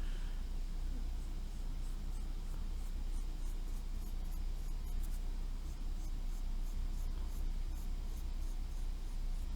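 A unit circle is drawn by hand on paper, heard as steady, close scratchy pen or pencil strokes under a constant background hiss, without speech.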